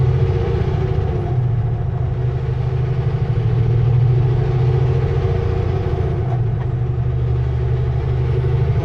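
A truck idling near a road turn-off, a steady low engine rumble with a faint rattle, close and continuous without clear change.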